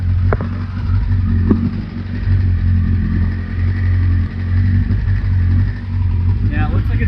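A Kawasaki Concours motorcycle engine runs steadily on half choke, a loud, close, even idle with a low rumbling throb, and a voice speaks over it.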